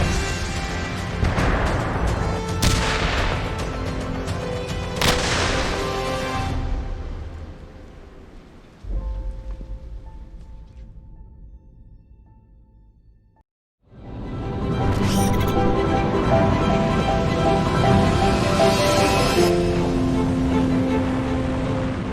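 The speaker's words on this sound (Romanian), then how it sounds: "Atențiune, explozie! Explozie! Explozie!" Military explosions at an army exercise come as several heavy booming blasts with a long rumbling roar, a quieter humming lull midway, then another loud sustained eruption of noise, with no speech.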